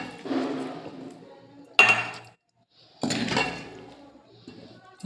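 A spoon knocking and scraping as chicken pickle is transferred into a clean jar, heard as three separate bursts of clinking and scraping with brief pauses between them.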